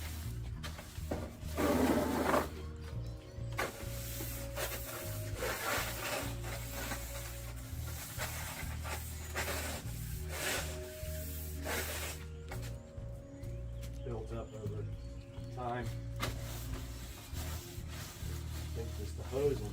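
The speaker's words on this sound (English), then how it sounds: "Some scrubbing here. And all kinds of dirt between these soffit ridges." Scrubbing dirt from the ridged soffit of a house, a steady rasping brush texture that continues throughout over a constant low hum, with occasional louder strokes.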